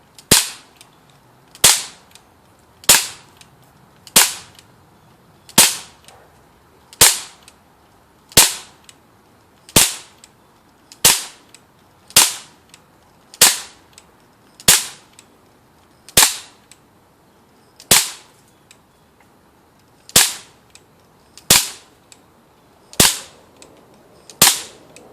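Twenty evenly spaced gunshots from a first-person shooter game, each a sharp, loud crack with a short decaying tail, fired one after another at a steady pace of roughly one per second, with no talking.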